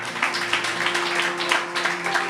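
Church congregation clapping hands during a Sunday sermon, a dense steady wash of applause from many people with a faint sustained organ or keyboard tone underneath.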